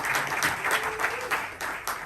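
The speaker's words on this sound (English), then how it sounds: "let's give a huge round of applause" An audience at a real estate seminar applauds, brisk rapid clapping sustained at an even loudness throughout.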